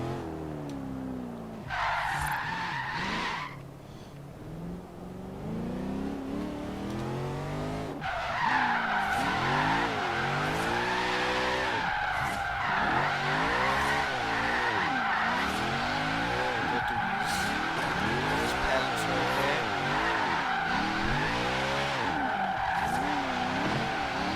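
A Lexus RC F drifts in the video game Forza Horizon 3, its engine revving and swooping in pitch through continuous loud tire squeal and skidding, with no talk over it.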